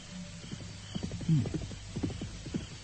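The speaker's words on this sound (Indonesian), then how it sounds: "Aku mendengar langkah kuda menuju kemari." Horse hooves clop in an uneven walking rhythm across a quiet, low-level scene, the steps fairly close with a soft low hum underneath.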